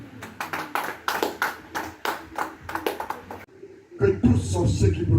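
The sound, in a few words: congregation clapping and acclaiming Jesus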